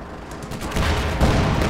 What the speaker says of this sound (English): So you can see I'm shooting high explosive shells, basically anti-infantry.